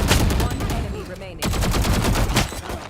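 Rapid bursts of gunfire from the Valorant shooter game, loud close automatic shots crackling in quick succession, broken by a brief lull before another sustained volley.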